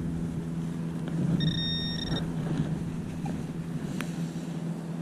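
A metal detector sounds a brief, clear electronic tone of under a second while sweeping over buried metal at an old house site, heard over a steady low background hum.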